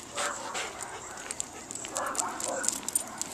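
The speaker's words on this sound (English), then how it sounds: "sounds like we've got some other dogs here in the neighborhood barking about something" Neighborhood dogs bark in the distance outdoors, faint scattered yaps and woofs in short bursts over quiet ambient background.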